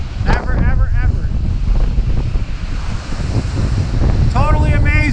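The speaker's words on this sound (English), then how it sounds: "you can see how strong Mother Nature is today on Lake Erie" Strong blizzard wind roars across the microphone on the Lake Erie shore near Buffalo, New York, with heavy surf and waves crashing continuously underneath. A voice speaks briefly near the start and again near the end.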